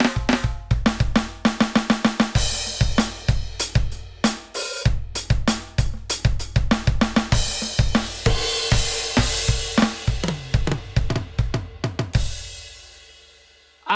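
Electronic drum kit played with a pop/rock preset, close and loud: fast kick and snare hits with cymbal crashes, a quick rolling fill speeding up, punchy attacks throughout, ending on a ringing crash that fades out.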